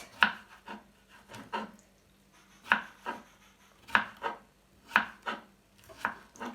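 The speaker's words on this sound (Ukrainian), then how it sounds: "Маємо ми тепер огірки. Зараз теж їх будемо акуратно, помаленько, тоненько нарізати." A knife slices cucumbers thinly for a vegetable salad, giving crisp chopping taps against a board in small clusters with pauses between, quiet, close and without speech.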